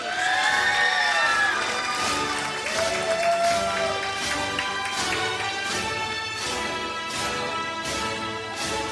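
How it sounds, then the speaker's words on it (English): Graduation ceremony crowd cheers and claps for a graduate, with shouts and whoops loud at first over steady applause, then settling into a sustained clapping wash. "Let's give him a big round of applause."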